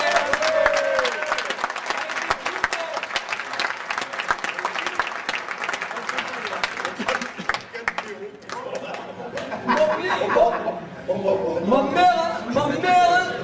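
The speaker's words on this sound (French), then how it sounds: "Si, on peut l'applaudir." Audience applause at an evening gathering in Barbotan, dense continuous clapping for the first eight seconds, then thinning into scattered claps under someone talking and crowd chatter.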